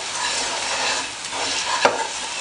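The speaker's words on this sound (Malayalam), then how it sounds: "നിങ്ങളിങ്ങനെ ഇളക്കി കൊടുക്കണം." Chili masala sizzles in a hot pan over a low flame for Kerala fish curry, with steady frying crackle and a spoon stirring continuously, one sharper scrape near the end.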